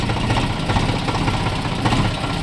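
A tractor engine runs on a village road after heavy rain, a steady loud low rumble with knocking vibration throughout, no voices.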